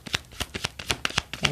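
A deck of tarot cards is shuffled by hand, giving a quick run of about a dozen crisp riffling snaps in close, quiet succession.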